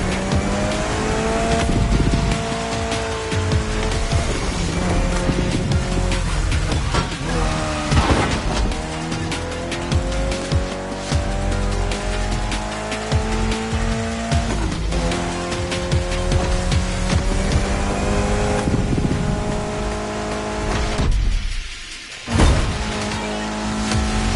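Race cars in the video game The Crew Motorfest, engines revving loudly with rising and falling pitch, tires squealing and skidding, continuous and close, briefly dropping out near the end.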